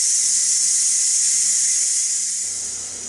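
Steam hisses out of the release valve of a pressure cooker holding a one-pot rice and beef meal, a loud, close, continuous high-pitched rush that gradually weakens toward the end.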